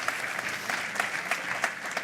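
Church congregation applauding during a Spanish-language sermon, a steady close crackle of many hands clapping with no voices over it.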